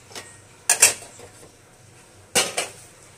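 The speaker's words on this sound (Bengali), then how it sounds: "এই মা গ্যাস জ্বালিয়ে দিয়েছে, কড়াই বসিয়ে দিয়েছে।" In a kitchen, a metal wok (kadai) is set on a gas stove, giving two short clattering metallic clanks separated by a quiet pause.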